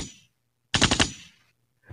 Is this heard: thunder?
no